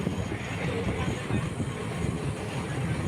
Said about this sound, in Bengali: আমাদের ট্রেনটা আস্তে আস্তে নিউ ফারাক্কা জংশনের দিকে এগিয়ে যাচ্ছে